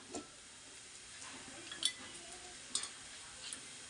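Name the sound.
onion frying in ghee for chivda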